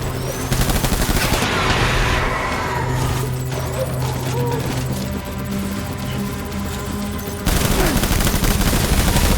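Gunfire in the video game Death Stranding, dense bursts of rapid shots and loud crackling that fill the clip, ease off in the middle under a low rumble, then burst back in hard near the end.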